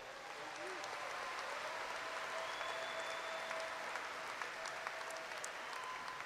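Audience at a university spring commencement ceremony applauds graduates, a steady, moderately distant wash of clapping in a large hall that continues evenly throughout.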